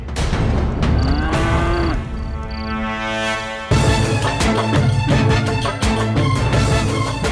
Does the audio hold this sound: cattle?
yes